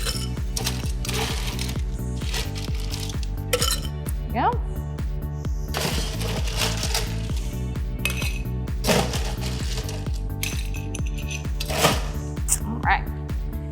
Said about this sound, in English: we are gonna start by just adding some ice to our mixing glass